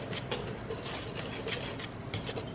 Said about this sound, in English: And then just whisk it together.